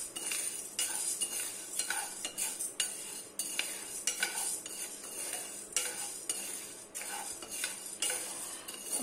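Toor dal roasting dry in a pan while being stirred, with repeated metallic scrapes and clinks of a spoon against the pan over a faint sizzle, close and fairly quiet, no talking.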